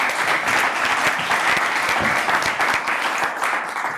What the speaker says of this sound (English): Big round of applause for welcoming Gilbert.